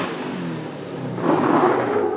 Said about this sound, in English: The truck sounds like it's breaking up.